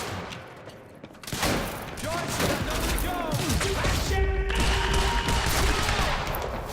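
Sustained video-game gunfire in Quantum Break, rapid bursts and a rattling fusillade that kicks in after a quieter start and carries on loud and dense, with a player talking over it.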